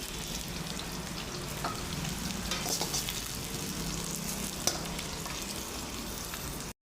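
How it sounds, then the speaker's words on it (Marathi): Onion sizzles and fries in a pan as it browns for black rice, giving a continuous, close crackling hiss with occasional faint stirring clicks. "छान परतून घ्यायचा कांदा लाल होईपर्यंत"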